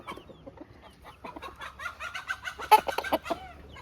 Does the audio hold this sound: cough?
no